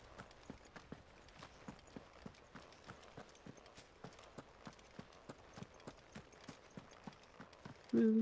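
Steady clip-clop hoofbeats of a mount trotting along in Final Fantasy XVI, a regular rhythmic patter of hooves at moderate distance, fairly quiet, ending with a brief louder tone.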